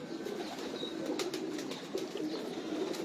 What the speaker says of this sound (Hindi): ये 50 नंबर कबूतर आप पहली दफ़ा देख रहे होंगे